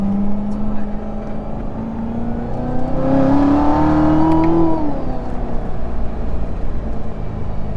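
A C7 Corvette Z06 engine revs up while driving on a mountain road, the tone climbing steadily then dropping back to a steady cabin drone.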